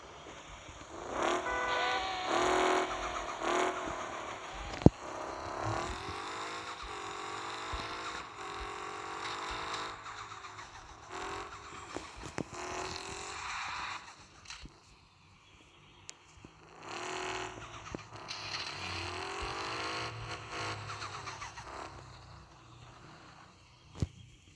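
A car engine in the Car Parking video game, a drift car with a panoramic sunroof, revs repeatedly in rising and falling surges, with a few sharp clicks and pauses between the bursts.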